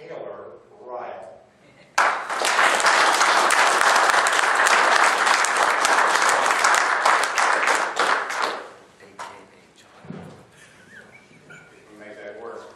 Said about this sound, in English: I'd like you to give a rousing applause to our speaker for tonight